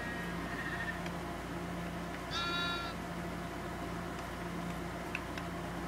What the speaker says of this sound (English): So, baby sheep are so cute and tiny.